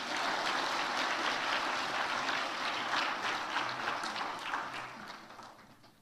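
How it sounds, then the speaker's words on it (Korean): A church congregation applauds during a Sunday worship service, a steady dense patter of many hands clapping that fills the room and tapers off toward the end. "박수로 한번 축하하겠습니다"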